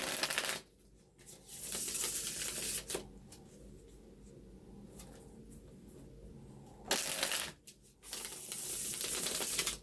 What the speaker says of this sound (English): I think I'm just making an excuse to shuffle cards all day.